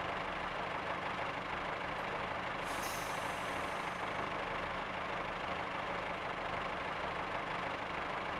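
A Class 143 Pacer diesel train in Train Simulator 2020 brakes under full service braking on the Exeter St Davids to Dawlish line, heard as a steady broadband rumble and hiss with a brief air-brake release around the middle, no voices.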